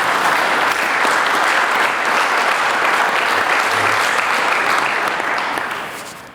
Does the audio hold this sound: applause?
yes